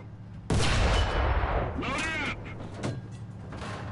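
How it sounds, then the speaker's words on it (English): A tank's main gun fires at an enemy tank's engine in the War Thunder video game, one loud close cannon blast with a rumbling boom and ringing tail. "Now, switch to gunner view and fire at the tank engine."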